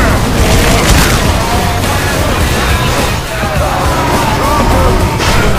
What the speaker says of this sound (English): A tank and a charger?